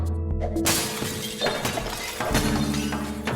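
Repeated glass shattering and breaking crashes from the Smash Hit video game, dense and continuous with several sharp bursts layered over a steady game soundtrack.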